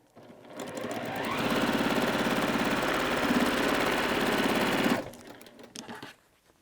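A sewing machine stitches quilt pieces in one rapid, steady run of mechanical clatter lasting about four seconds, then stops, leaving a few faint handling sounds.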